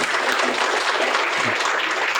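Applause for a speaker named Ben at a college career pathways summit in Z-Space, a short, steady burst of many hands clapping at fairly close range with no talk over it.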